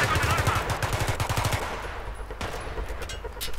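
Rapid turret machine gun fire in Battlefield 3, a loud close burst of evenly spaced shots for about a second and a half, then fading into quieter battlefield rumble and scattered distant reports.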